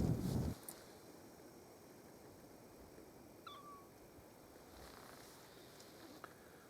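A kitten meows in a mobile farm game playing on someone's phone at a woodland campsite in England. There is a single faint, short mew midway through, heard over quiet outdoor background after a brief louder rustle at the start.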